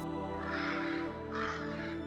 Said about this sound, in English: these crows looked like they'd pecked the eyes out of a statue, and they were heading straight for us